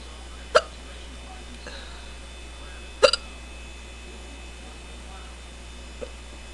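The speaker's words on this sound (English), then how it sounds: "This has got to be the strongest case of hiccups I've had in a long time." A woman hiccups two sharp times about two and a half seconds apart, with a faint third at the end, close and clear over a steady low hum.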